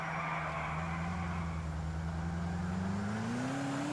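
A Moskvich 412 car driving in GTA IV, its engine droning steadily and loudly throughout, pitch rising gradually toward the end as it accelerates.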